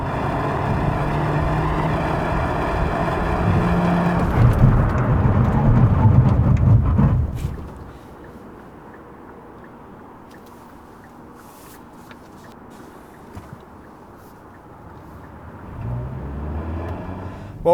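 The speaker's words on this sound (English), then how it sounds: "Now let's check out the braking performance of Hyundai Kona Hybrid." A 2020 Hyundai Kona Hybrid crossover on Michelin tyres doing a braking test, loud road and engine roar building then cutting off sharply into near quiet, followed by a faint rumble returning at the end.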